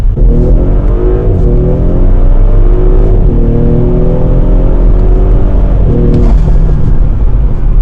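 Audi B9 SQ5 fitted with 034 Motorsport parts accelerating hard from inside the cabin, a loud continuous engine roar with rising turbo whoosh and rev sweeps that climb, dip at shifts, and climb again.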